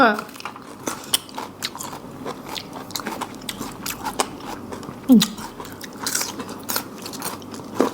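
Crunchy bites and chewing on a giant cockle, served with a dipping sauce, come close and clear in uneven mouthfuls, with soft murmuring voice sounds between bites.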